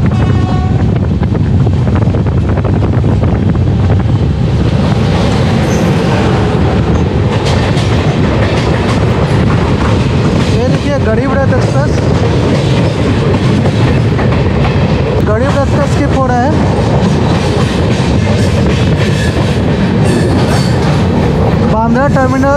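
The Samta Express running into Mathura Junction: a loud continuous roar of rolling wheels and rattling carriages with rhythmic clickety-clack and heavy wind buffeting on the microphone, with brief squeals over the steady rumble and a voice at times.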